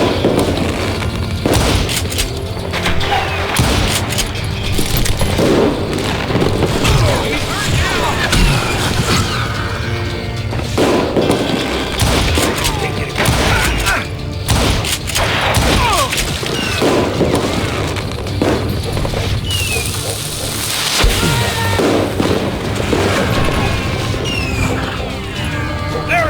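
Loud, dense gunfire and booming shots from the Western shooter game Call of Juarez: Gunslinger, rapid bursts and impacts continuing throughout with shouted voices and game noise mixed in.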